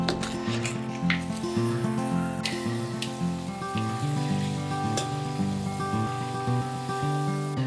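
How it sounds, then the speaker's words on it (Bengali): Papri dough rounds deep-frying in hot oil for a Bengali street-style chaat, a steady loud sizzle and crackle with scattered pops, close up, with no talking. "এখন আমি লেচিগুলো সব ভেজে নেব।"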